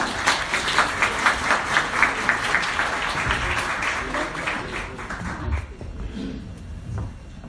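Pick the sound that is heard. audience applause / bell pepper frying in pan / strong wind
audience applause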